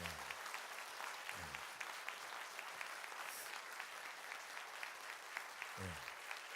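A church congregation at a Korean revival meeting claps for a pastor and his wife, a continuous, moderately distant patter of many hands, with a voice briefly heard over it a couple of times.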